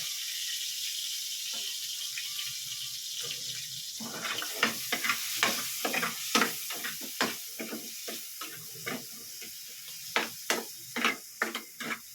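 Butter sizzles in a frying pan, starting as a low hiss and building into crackling, spattering pops that come irregularly and close by.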